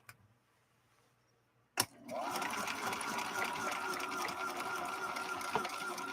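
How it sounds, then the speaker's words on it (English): A Husqvarna Viking 3230 sewing machine run in its slow gear, starting after a sharp click and then whirring steadily and close for several seconds, with a faint voice underneath. "Listen to that machine run. You can tell that it's been geared down."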